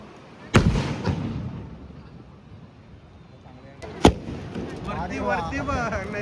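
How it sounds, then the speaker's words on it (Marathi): Firecrackers go off at a lantern festival: two sharp, loud bangs a few seconds apart, each with a brief rumbling tail, amid crowd noise and people talking. "गाईज इकडे वेगळे फटाके चालू"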